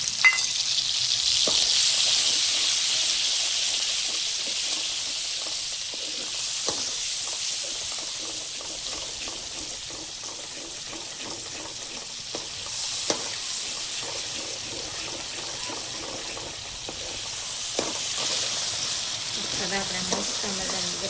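Tomato gravy sizzles and fries steadily in a pan, a continuous bright crackle with occasional stirring clicks, fairly close and unbroken by talk.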